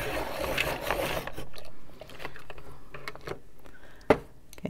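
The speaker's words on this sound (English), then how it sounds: "You may have to listen to me sharpen." Colored pencils turned in a hand sharpener, a close dry rasping grind for about a second, then quieter intermittent scraping and small clicks with one sharp tap near the end.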